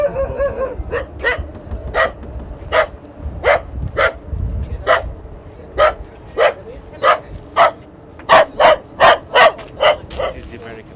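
A dog barks over and over, loud and close, in a long rhythmic series of sharp barks that grows faster and more regular toward the end, with some background noise between them.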